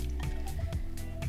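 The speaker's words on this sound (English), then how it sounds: "I'm just going to pour it onto the fig leaves" Soybean oil poured onto fig leaves, quiet wet squishing and dripping with a few soft glugs, close and low in level.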